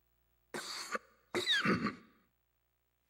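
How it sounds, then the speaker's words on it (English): Coughing and wheezing from a character in a Final Fantasy 12 cutscene: two raspy bursts, a brief cough and then a longer strained wheezing cough, close and clear against silence. "Coughing and wheezing."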